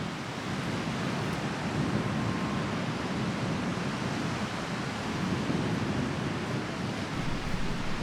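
Broadband surf washing steadily onto the Norfolk coast, a continuous roar of breaking sea waves with some wind rush, even and unbroken throughout with no voices.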